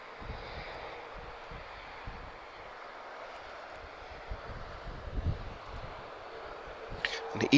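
An Airbus A320neo arriving from Gran Canaria rolls out on the runway with its engines at idle reverse thrust, a quiet, steady low roar under wind noise that swells slightly toward the end.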